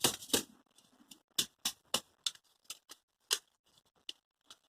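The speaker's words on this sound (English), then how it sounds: "just by gently lifting up the flap, taking out the inner seed pack, the foil seed pack," Paper seed packet flap lifted and an inner foil seed pack pulled out on a winter allotment: a quiet series of crisp, separate crinkles and taps, close up, with no talking.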